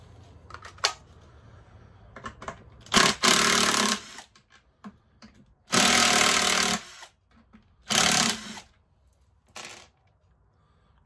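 A cordless Dremel rotary tool whirs in three or four short, high-pitched bursts of a second or so, with quiet gaps and small clicks between them, close by during a Stihl MS311 chainsaw teardown.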